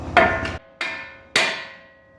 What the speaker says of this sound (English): A good trick for popping these tapered tie rod ends out of their holes is just to give it a good whack right here.